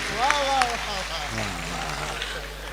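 An audience at a Gujarati comedy show claps in a sustained burst of applause, with a voice talking over it throughout.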